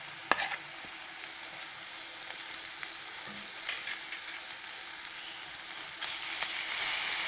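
Onion with ginger garlic paste sautés in a pan, giving a quiet steady sizzle with a sharp clink near the start and occasional soft stirring scrapes, the sizzle brightening toward the end.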